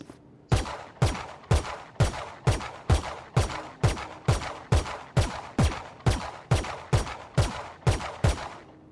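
Rapid gunfire in the Valorant video game, a long regular string of about eighteen sharp, punchy shots evenly spaced with no talking.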